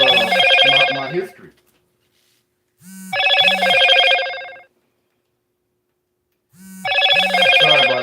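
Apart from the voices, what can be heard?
mobile phone ringing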